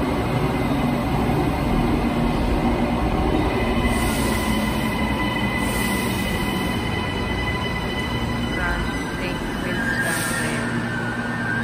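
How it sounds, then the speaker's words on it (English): Steady rumble of a passenger train ride in Brisbane, Australia, with continuous wheel and carriage noise filling the cabin and faint squeals and hisses rising now and then, close and constant throughout. "Train, guys."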